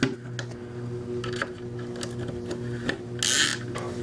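A T25 ratchet turning bolts into an FN SCAR rifle, giving soft irregular mechanical clicks and a short louder burst of ratcheting near the end, over a low steady hum.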